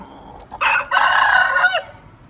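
An Aseel Khajuria rooster on a farm gives one loud, close crow lasting just over a second, breaking briefly near its start, then fading into quiet.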